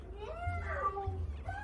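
A person imitates a cat, drawing out a couple of wavering meows at close range, during play of the game Stray.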